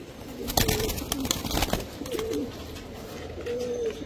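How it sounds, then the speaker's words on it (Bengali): Pigeons at a sale, including a silver beji-cross bird, give several low, rolling coos close by, with a few sharp knocks and clatters early on and steady background hum. "এই যে দর্শক দেখেন, বেজি দিয়ে করা একটা কবুতর"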